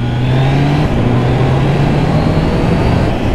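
A Triumph Trident 660 three-cylinder motorcycle runs loud and close, its engine pitch falling through a sustained drone as it downshifts via the quickshifter, with steady wind and road roar beneath.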